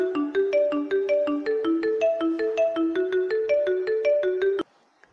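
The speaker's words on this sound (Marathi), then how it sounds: "फोन आला वाटतं." Phone ringtone for an incoming call, a loud melodic pattern of repeated electronic notes cycling rhythmically for several seconds before cutting off abruptly.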